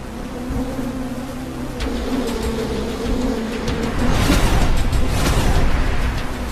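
Dense swarm of Africanized honeybees (killer bees) buzzing steadily, the droning hum swelling louder and closer over several seconds, no voices.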